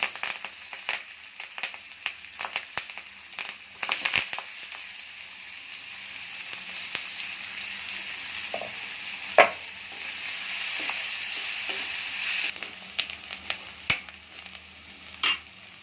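Garlic, green chili and curry leaves fry in hot oil in a pan, giving a continuous hiss and crackle broken by sharp pops and occasional scraping stirs, fairly close and steady.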